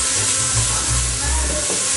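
Onions browning in a pan for a beef chilli con carne give a steady, close hiss and sizzle that holds evenly throughout, with low rumbling undertones.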